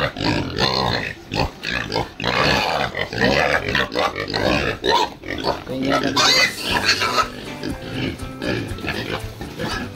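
Pigs on a farm crowd in to eat dissolved feed, making a dense, continuous chorus of loud grunts and squeals that stays close and busy throughout.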